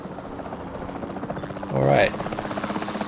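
A capture team helicopter in Jurassic World Evolution 2 drones steadily as rotor noise beneath a voice, with a brief louder swell of buzzing engine sound near the middle.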